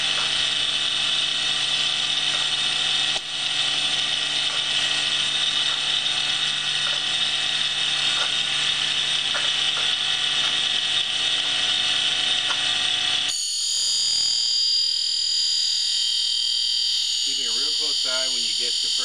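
A ball nose end mill is ground on a grinding wheel, giving a steady, loud mechanical whirring for about thirteen seconds before it abruptly stops and quieter machine sounds follow.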